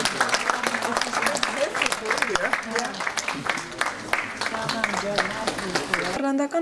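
A theater audience gives an actor a long standing ovation, steady dense applause continuing for several seconds with a voice speaking over it.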